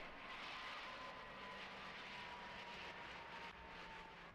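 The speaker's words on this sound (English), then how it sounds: "As the A320 crossed the Habsheim airfield, its speed dropped to only 112 knots." An Airbus A320 airliner passes low and slow over Habsheim airfield, its engines a loud, steady roar that fills the whole stretch without a break.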